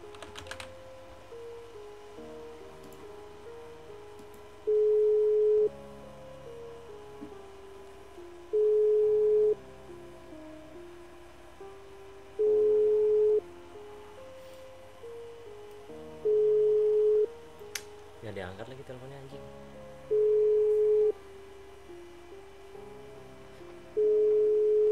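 An unanswered phone call in GTA V roleplay gives a repeated electronic ringback tone, a steady beep recurring about every four seconds over faint background hum, with a brief thump partway through.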